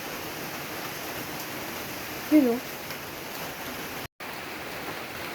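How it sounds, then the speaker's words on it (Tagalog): Afternoon rain falling outdoors, a steady, even hiss of noise throughout, with a brief spoken voice partway through. "So narinig sa background umuulan."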